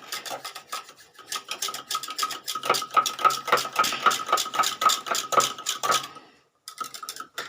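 Yogurt being whisked briskly in a glass with a spoon, a fast steady run of close, bright clinking and scraping strokes that stops briefly before a few more resume.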